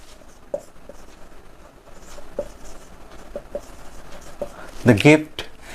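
Pen or chalk writing in a grammar lesson, scattered short scratchy strokes, with a louder scraping burst near the end.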